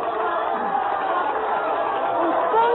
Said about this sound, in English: I heard cheering and applause in the distance.